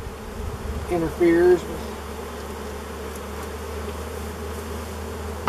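Bees buzzing around a beehive left unopened for more than 30 years, holding worker brood, a steady low hum that runs throughout with one louder close pass near the middle and brief speech at the start.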